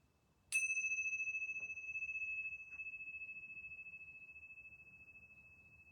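One clear strike of a yoga bell rings out and lingers, its pure tone decaying gradually in near silence.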